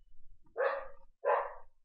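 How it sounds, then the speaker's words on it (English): Two short, loud dog barks close by, roughly three-quarters of a second apart, with quiet between them and no talking. "Wow, that dog really likes barking today."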